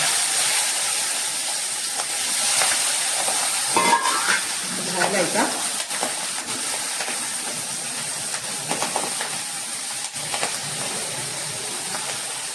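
Marathi phodni tempering sizzling steadily in hot oil for poha as chopped green chillies and curry leaves go in, with a few stirring scrapes and a voice speaking briefly over the crackle.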